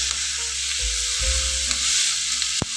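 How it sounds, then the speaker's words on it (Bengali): Garlic sizzles steadily in a hot pan for prawn Manchurian, a constant bright hiss with a few soft stirring clunks and a sharp scrape near the end, no voices. "একটু ভাজা হোক।"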